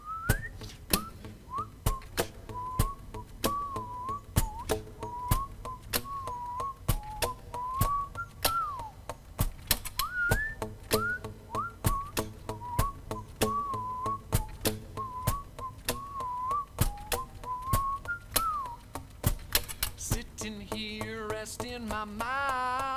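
Someone whistles a bouncy melody on stage during a live performance over a rhythmic accompaniment with sharp percussive beats, ending with a brief burst of different sound.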